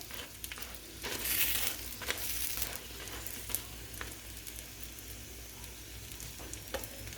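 A paneer paratha cooking on a griddle over medium to high heat, faint steady sizzling with a louder burst and scattered light taps as it is turned over, quiet and without speech.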